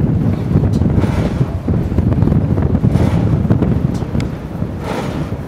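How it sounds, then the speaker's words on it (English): Strong wind gusts outdoors around a vertical axis wind turbine, with loud, continuous buffeting and rumble against the microphone. "Now the wind's dropping again."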